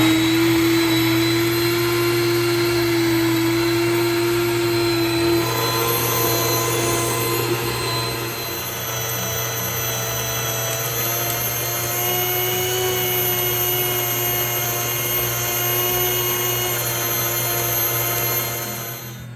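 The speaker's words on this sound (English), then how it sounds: "So into the hopper my wheat berries go, and put the top on it. Back you up a little bit. Put the top on it, and we're gonna get grinding" An electric grain mill grinds wheat berries into flour, giving a loud, steady, whining mechanical roar with a strong hum that keeps on for the whole stretch and dips slightly partway through.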